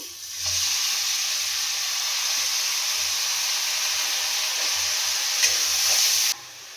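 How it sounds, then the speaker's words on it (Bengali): Onion and tomato sizzle loudly and steadily in hot oil in a pan, a broad continuous hiss that starts abruptly, holds evenly with faint stirring knocks, then cuts off near the end; no one speaks. "দেখো এই যে পেঁয়াজ আর টমেটোটা আমি ভেজে নিচ্ছি"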